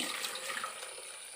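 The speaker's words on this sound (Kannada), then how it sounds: "ಹಾಕಿಬಿಟ್ಟು ನೀರು ಹಾಕ್ಕೊಳ್ಳಿ." Water is poured into a pot of ground coconut on a gas stove while making Tulu-style neerupundi. It makes a short, steady, fairly quiet splashing pour with no talk over it.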